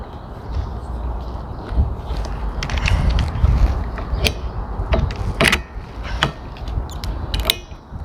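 A windshield wiper blade being fitted: plastic lever lifted and the blade slid into its arm, giving several sharp clicks and snaps over a steady low background rumble.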